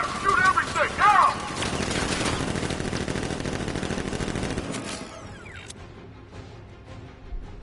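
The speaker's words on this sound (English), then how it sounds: "Guard! Open fire! Shoot everything! Now!" Guards open fire in a Batman video game: dense, loud bursts of automatic gunfire run without a break for about five seconds, with a shouted voice near the start, then cut off to near silence.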